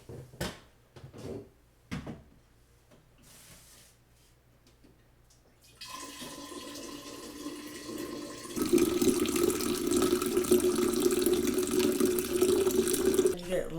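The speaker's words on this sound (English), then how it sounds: "Somebody already filled up the purified water, so I could actually fill this up with purified water." Purified water runs from a tap into a water bottle, a steady broad rush that starts midway after some quiet handling knocks and grows louder and fuller toward the end.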